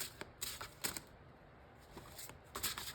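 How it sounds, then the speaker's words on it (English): A deck of cards is shuffled up close, quiet riffling bursts repeating in short clusters with brief pauses between, nearly alone with no talking. "So I'm going to shuffle."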